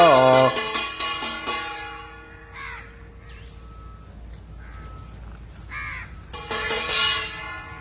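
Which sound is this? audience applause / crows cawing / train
crows cawing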